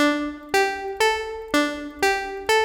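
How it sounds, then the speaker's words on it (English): A bright electric piano dance preset on a synthesizer plays five evenly spaced chords, each struck sharply and decaying, with rich harmonics and no voices. "And I am using their dance piano preset."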